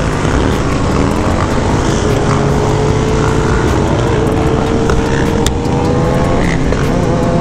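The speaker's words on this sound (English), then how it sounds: "couple CRFs going at it." Several Honda CRF dirt bikes rev hard together during an urban group ride in Detroit. A loud, continuous, buzzing engine roar fills the scene, with rising pitch sweeps as throttles open, and no talk.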